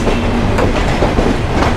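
The Lalmonirhat Express rolls past close by near Kamalapur in Dhaka, a loud, dense rumble of wheels and carriages with a steady rattling clatter throughout.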